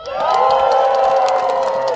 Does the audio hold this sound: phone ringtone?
no